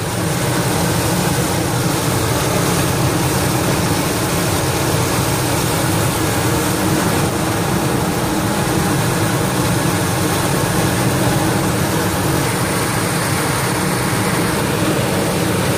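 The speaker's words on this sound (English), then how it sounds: "I'll spray the other half, revving up the engine" A car engine roars at a steady high pitch while cleaner is sprayed into the throttle body, loud and continuous throughout, with no pauses or voices.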